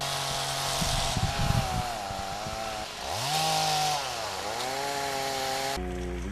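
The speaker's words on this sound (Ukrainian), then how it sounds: "задзичали бензопили, застукотіли сокири" Gasoline chainsaws cutting wood during a cleanup of an Orthodox cemetery in Teratyn, Poland; engines whine and rev up and down continuously, fairly close, with overlapping saws and no talk.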